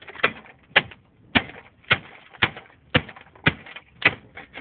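A hammer repeatedly striking a car dashboard in a wrecking yard to break it out, a steady series of about nine hard, sharp whacks roughly half a second apart, close and loud with no talking.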